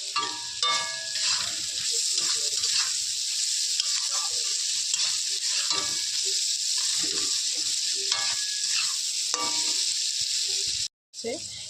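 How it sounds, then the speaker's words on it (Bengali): Chow mein noodles and egg, seasoned with turmeric, fry in a wok and are stirred together: a steady, close sizzle runs throughout with scraping stirs, cutting out briefly near the end. "ডিমটা দিয়ে ওর সাথেই নাড়ানাড়ি করবো"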